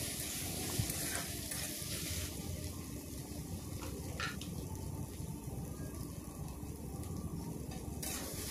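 Egg crumbles are stirred together with vegetables, including brinjal, in a hot pan, giving a continuous close sizzle with occasional scraping stirs.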